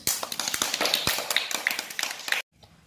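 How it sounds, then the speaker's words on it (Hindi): Children clap their hands in a quick burst of sharp, uneven claps lasting about two seconds, fairly close, then stop abruptly. "ताली बजाओ।"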